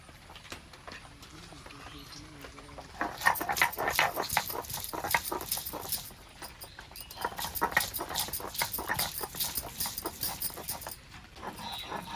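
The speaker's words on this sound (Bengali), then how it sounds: "সবার ফার্স্টে আদা রসুনটা বেটে নেব" Ginger and garlic are ground into paste for cauliflower pakoras, probably on a grinding stone. A steady, rhythmic scraping patter runs close and fairly loud after a quieter start, with a short pause in the middle.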